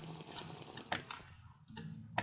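Water flows steadily at low volume in a Minecraft-style survival game, a soft continuous trickle with a few brief splashy accents.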